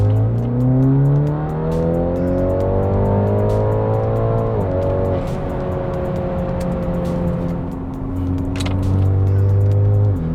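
A BMW G20 330e with B48 engine, ECU tune and aftermarket exhaust accelerates from third gear at 1500 RPM, exhaust note rising in pitch then dropping at each shift, loud and close from inside.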